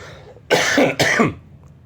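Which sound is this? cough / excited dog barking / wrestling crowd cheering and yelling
cough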